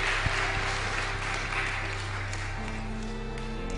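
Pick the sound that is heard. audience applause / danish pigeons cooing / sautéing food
audience applause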